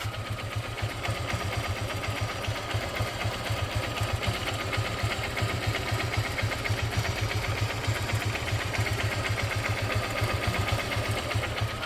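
A Honda Unicorn motorcycle engine idles steadily, a close, even, rapid mechanical thrum with a faint ticking rattle and no voices over it.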